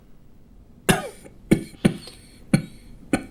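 A man coughs in five sharp, separate bursts spaced roughly half a second apart. The coughs are close and fairly loud, with no talk between them.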